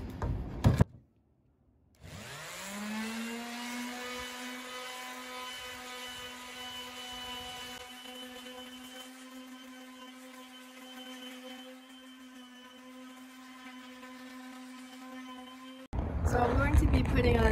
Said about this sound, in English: I'm just gonna sand it to make it a little bit more smooth with the medium sandpaper